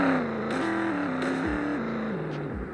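A 2007 Ford Mustang GT V8 in a video game revs up and down in several stepped pulls, a loud, close engine note rising and falling with no talk over it.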